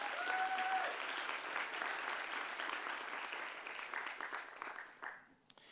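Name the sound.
audience applause for event volunteers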